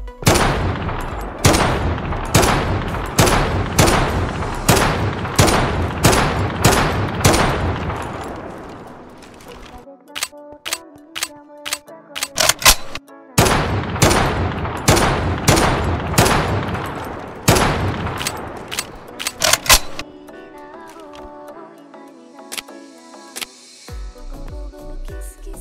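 Dragunov SVD sniper rifle gunshots from a video game, a long series of loud, evenly spaced shots with reload and handling clicks during pauses between the volleys.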